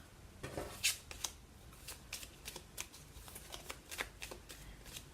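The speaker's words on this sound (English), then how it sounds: "going to give the cards a good shuffle here." Tarot cards are shuffled close by in a series of quick riffling and sliding bursts, soft and papery, with no voices.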